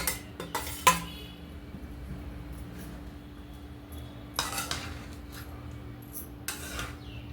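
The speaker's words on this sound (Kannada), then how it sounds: "ಈಗ ಮಾಡಿಟ್ಕೊಂಡಿರೋಂತಹ ಅನ್ನನ ಗೊಜ್ಜಿನಲ್ಲಿ ಹಾಕಿ ಬೆರೆಸಿ ಮಿಕ್ಸ್ ಮಾಡ್ಕೊಳ್ಳೋಣ ಹೀಗೆ" Cooked rice stirred into capsicum gravy in a pan with the stove off, giving soft scraping and a few sharp clinks of a spoon against metal, close by with no talk.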